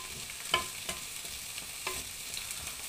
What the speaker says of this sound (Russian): Доводим до кипения и пусть потихонечку на медленном огне